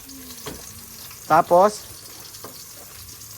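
Garlic and onion fry in a pan with a steady soft sizzle, and a voice speaks briefly over the cooking.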